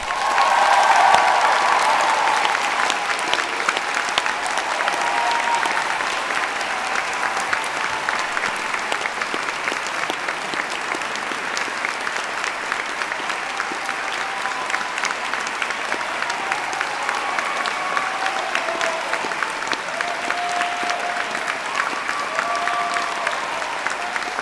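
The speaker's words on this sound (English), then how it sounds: "And now let's all give them a big round of applause." At a Phi Beta Kappa convocation, a crowd gives the new graduates a long, sustained round of applause, steady massed clapping with scattered cheers and a few voices mixed in.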